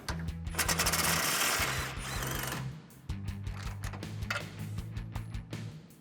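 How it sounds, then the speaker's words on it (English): A socket wrench works on the 18mm tow hook bolts holding the front bumper to a 2016-2018 Chevrolet Silverado frame. Rapid metallic ratchet clicking comes in close, loud bursts with a short pause between them. "we're going to use an 18mm socket and wrench to remove the bolts holding that to the frame"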